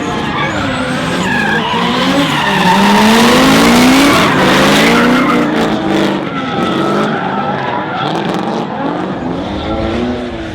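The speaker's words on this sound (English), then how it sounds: "Jace Brown took a win into the top 8 over Michael Thorley, spinning out in the Femme Fatale C33" Drift cars at a D1NZ Pro-AM drifting round in Tauranga, loud and close, with wailing tire squeal and revving engines sweeping in pitch throughout, alongside continuous skidding.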